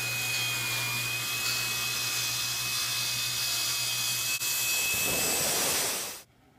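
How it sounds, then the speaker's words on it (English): A power saw rips purpleheart wood down to bowl-wall thickness for a segmented turning, a loud continuous whine with a high steady tone that runs down and stops near the end. "I'm ripping the purple heart down to the thickness of the wall that I want to fit the curvature of the bowl"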